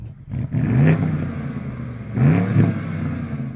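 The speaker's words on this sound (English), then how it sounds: "This M550i has a glorious V8 engine, and it sounds nice on the outside." A BMW M550i's V8 engine revs twice outside the car, each rev swelling into a throaty roar and then settling back to a rumbling idle.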